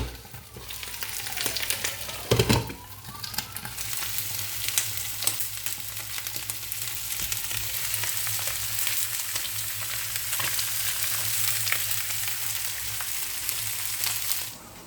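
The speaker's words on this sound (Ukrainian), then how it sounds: "Буду зараз готувати цвітну капусту, буду смажити її в яйці." Cauliflower florets dipped in egg sizzle and crackle steadily in two frying pans, a continuous close hiss with a brief clatter early on and no talking.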